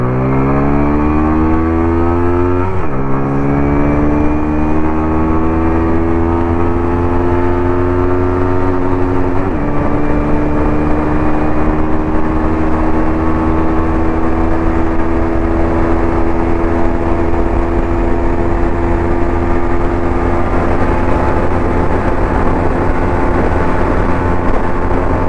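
TVS Apache RTR 160 4V Black Edition motorcycle at high speed, its engine a loud, close droning whine that climbs in pitch through two gear shifts before holding a steady high-rpm roar beneath heavy wind rush.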